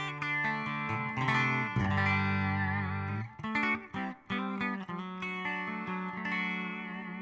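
Electric guitar played through a Headrush effects unit with chorus applied and the stereo setting switched off, sustained chords ringing out loud and alone, with a few short choppy strums in the middle before the chords resume.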